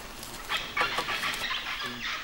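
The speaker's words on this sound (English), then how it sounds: "Can you hear the parrots?" Several parrots give harsh, scratchy calls overhead, a few overlapping squawks at moderate distance against quiet outdoor background.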